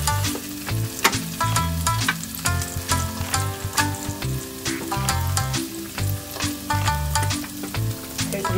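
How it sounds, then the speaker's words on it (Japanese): Carrots and garlic chives sizzle steadily in a hot pan for Okinawan tofu champuru, with stirring scrapes over the frying and a melodic backing tune underneath. "はい、人参を炒めていきます。"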